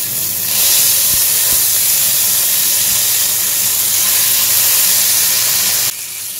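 Marinated chicken going into hot oil in a pan gives a loud, steady sizzling hiss that fills the whole stretch and drops off sharply near the end, close up with no talk.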